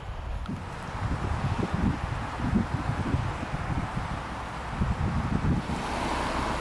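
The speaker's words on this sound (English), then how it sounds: "right now we can sit and just hear the water flowing" A river flows near Yellowstone, close to Henry's Lake, as a steady broadband wash of moving water with some wind, continuous and fairly loud, with no talking.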